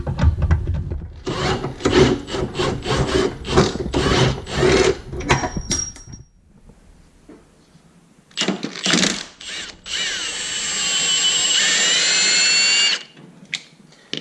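Motor mount bolts are removed from a Dodge Dart engine by hand with a ratchet: quick bursts of clicking for several seconds, a pause, then a loud, sustained whirring grind from a power tool.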